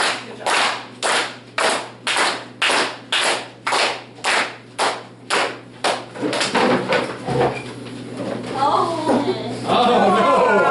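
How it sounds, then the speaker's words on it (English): A group claps together in a steady unison rhythm, about a dozen loud, evenly spaced claps, before the beat breaks up into scattered clapping, laughter and chatter. "let's start clapping again."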